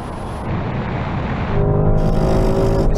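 A Porsche Cayenne Turbo and other performance SUVs, including a Lamborghini Urus, BMW X6 M, Jeep Trackhawk and Tesla Model X, accelerate hard off the line in a drag race, a loud steady engine roar that swells and rises in pitch.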